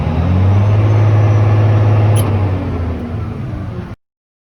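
Caterpillar 988G high-lift wheel loader with a spadenose rock bucket, its diesel engine droning steadily at close range as it shifts into first forward gear, holding a low, even rumble before cutting off abruptly.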